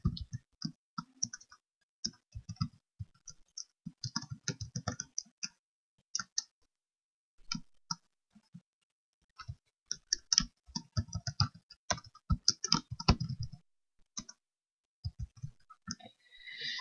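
Typing text on a computer keyboard during Photoshop CS6 work, heard as bursts of close, crisp key clicks in irregular runs separated by short pauses.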